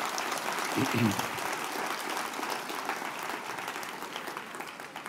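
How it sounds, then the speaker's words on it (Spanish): A church congregation at a Friday devotional service claps loudly in a sustained, even burst, with a few voices calling out over the applause. "Denle un aplauso bien fuerte al Rey bendito"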